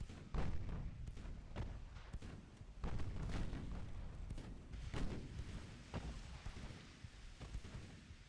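Big naval guns fire in Ultimate Admiral: Dreadnoughts, a steady barrage of heavy booming thuds and cracks, dozens of shots overlapping in a continuous rumbling cannonade at moderate level.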